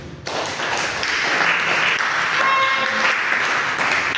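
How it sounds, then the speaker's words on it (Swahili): A church congregation claps for a woman named Wanja during a service, the applause a broad, steady wash of many hands that starts abruptly and carries on evenly throughout. "Yes, pigeni Wanja makofi."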